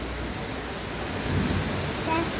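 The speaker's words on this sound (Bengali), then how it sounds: "ও, বৃষ্টিতে গাছ থেকে পানি দিচ্ছে," Rain falls steadily on the leafy plants of a balcony vegetable garden: a constant, close hiss of drops with a faint low rumble beneath.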